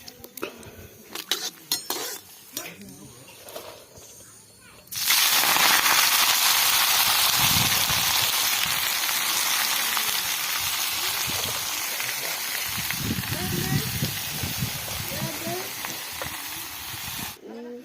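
Loud, steady hissing sizzle of chilies frying in hot oil begins suddenly and continues, with faint clinks and a little talk in the background.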